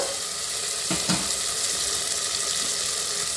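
Vegetables fry in a pan for a vegetable potato curry, a dense continuous close sizzle with a couple of quick stirring scrapes early on.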